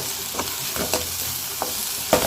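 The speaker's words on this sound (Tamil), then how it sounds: "பச்சை மிளகாயும் சேர்த்து நல்லா வதக்கி வச்சுக்குவோம்." A steady hiss of green chilies frying in a hot pan, with a spoon scraping and clinking against the metal every so often as they are stirred.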